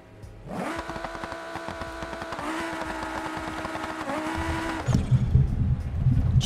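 A car engine in BeamNG.drive revs and holds high revs steadily, held near 4,000 RPM, then drops into rough, lumpy idling near the end, loud and close with no talk.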